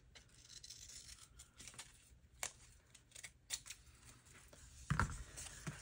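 Scissors cutting paper for a junk journal, a few separate crisp snips spread over the clip, close and faint with a quiet room in the background and no talk.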